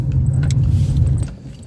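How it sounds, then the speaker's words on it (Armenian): A phone mount inside a moving car clicks repeatedly, giving light, sharp ticks at irregular intervals over the low, steady rumble of the car on the road. "այս հեռախոսի վրայի բան անընդհատ կտկտում է"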